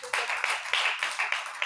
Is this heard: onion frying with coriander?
no